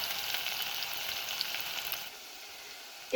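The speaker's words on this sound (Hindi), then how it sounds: "अब मैं इसमें ऐड कर रही हूँ अनियन, जो कि मैंने चॉप करके रखा हुआ था। मिक्स करेंगे और इसको तकरीबन 1 मिनट के लिए फ्राई करेंगे।" Chopped onion frying in hot oil in a pan for homemade pizza sauce: a faint, continuous sizzle and hiss close by that drops to a quieter level partway through, with a small clank at the end.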